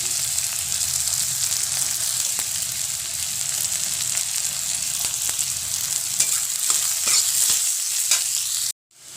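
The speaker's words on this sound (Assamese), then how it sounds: "এতিয়া মই এইখিনি ভালকে ভাজি লম ইয়াতে মই এতিয়া আদাখিনিও দি লম" Brinjal pieces and ginger fry in a hot pan, giving a steady, close crackling sizzle with scattered sharp pops and spatula scrapes that cut off abruptly near the end.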